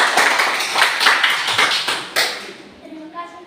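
A classroom applauds a classmate with a dense burst of clapping for about two seconds. It then thins out and fades into quieter room sounds with faint voices.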